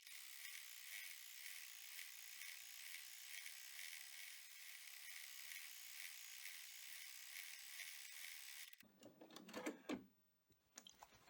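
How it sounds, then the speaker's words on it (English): An embroidery machine stitches a partial egg outline on felt, giving a fast, faint, steady mechanical whirring and ticking that runs evenly for several seconds, then stops, leaving brief soft handling noises. "it is going to run a partial outline for the egg design"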